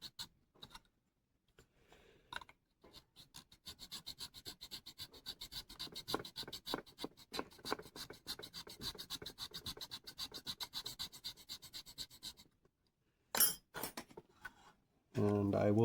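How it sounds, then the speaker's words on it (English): A knife file rasps against the baffle of a clarinet mouthpiece in quick, close, repeated strokes that run steadily for several seconds. After a pause come a few sharp knocks, then a burst of louder noise. "this is a knife file that has no abrasive edge down below, so I'm not damaging the surface of the baffle."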